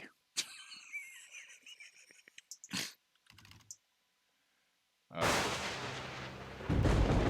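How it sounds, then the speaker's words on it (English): Thunder crashes in the retro computer horror adventure game The House Abandoned, a loud broadband rumble rolling in after scattered clicks and short bursts, swelling and continuing to the end. "Thunder."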